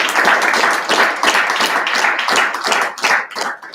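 Applause from an audience at a student government association meeting: a dense, steady burst of many hands clapping close by for nearly four seconds, with no talk over it.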